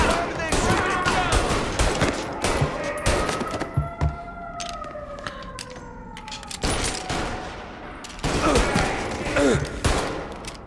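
Scattered gunshots and rapid bursts of fire in the crime game Mafia, fairly close, pausing midway while a siren wails, then resuming; voices speak over parts of it.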